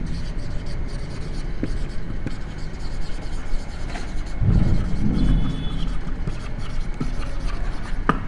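Writing on a board during a physics lecture on uniform circular motion: scratchy rubbing strokes come in short bursts over a constant low room rumble, with a heavier stretch of scraping midway.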